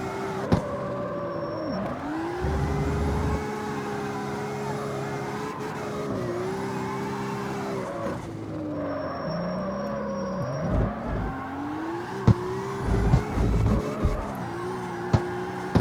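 A prototype drift car in the CarX Street racing game corners hard, its engine revving and falling in long sweeps with tire squeal and skidding, loud and continuous throughout with no talk.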